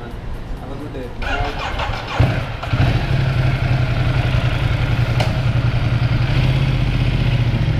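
Ducati XDiavel motorcycle engine cranking over and catching, then settling into a loud, steady, close idle rumble that runs to the end.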